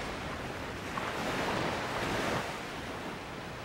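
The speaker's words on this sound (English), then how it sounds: "the surf pounds the east coast of New Zealand" Surf pounds the east coast of New Zealand in a steady, wide roar of breaking waves that swells briefly in the middle, with wind noise mixed in and no voices.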